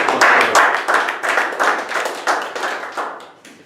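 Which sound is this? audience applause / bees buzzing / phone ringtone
audience applause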